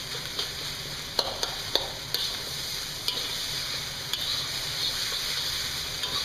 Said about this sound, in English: we're just scooping and moving, scooping and moving, scooping and moving